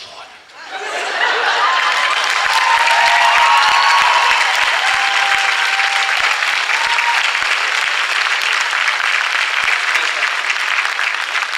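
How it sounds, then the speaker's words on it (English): Sustained applause from a large convention crowd at Comic-Con, rising quickly and holding steady, with scattered cheers and laughter mixed in. "keep the applause going"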